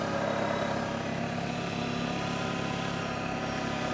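Arctic Cat Diesel 700 UTV engine running steadily near the listener, a constant mid-pitched diesel drone with no pauses or rev changes and no talk.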